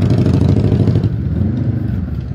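A motorcycle engine, an 1800 model, runs close by with a dense, throbbing mid-range rumble that is loud and steady before easing a little, with no speech.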